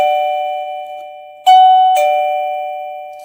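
A Nestling wireless doorbell chime kit plays its default melody when first plugged in. A loud, sustained electronic bell tone is struck again with two bright strikes that ring out clearly with no talking.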